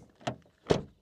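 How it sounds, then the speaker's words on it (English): A Renault Rafale SUV door shutting: two quick, dull thuds close together, the second heavier, recorded close up without talk. "Door closing sound."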